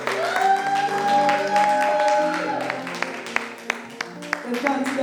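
A church congregation applauding to acclaim the Lord at a Pentecost service, steady clapping swelling to a sustained round, with a voice singing or calling over the start before individual claps stand out as it fades.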